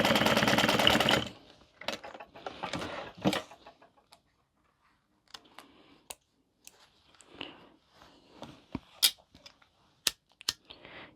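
A sewing machine stitches Velcro onto a fabric car trash can, with one loud continuous run of stitching at the start, then scattered close clicks and handling noises as the fabric is adjusted.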